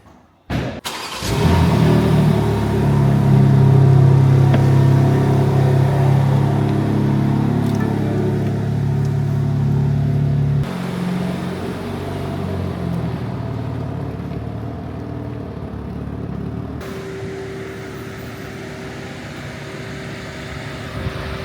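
A BMW M4 Competition fires up with a loud, close engine roar that holds for several seconds, then settles to a lower, steadier drone as the car pulls away, with no talk over it.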